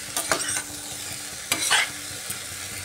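Ash gourd is stir-fried with spices in a pan, with a few distinct scraping stirs of a spatula over a soft continuous sizzle, close and moderately quiet.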